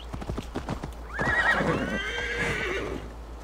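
Quick clip-clop hoofbeats, then a loud, drawn-out horse whinny that wavers for about two seconds, close by with no talking, from the video game Assassin's Creed Valhalla.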